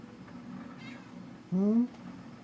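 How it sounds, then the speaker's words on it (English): A baby kitten gives one short, rising meow up close in a quiet room with a low background hum. "Just a little baby kitty."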